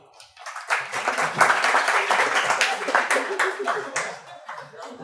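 Audience applause after a demo of Espruino JavaScript mini computers: a few seconds of moderate, scattered clapping from a small crowd, swelling quickly and tapering off near the end.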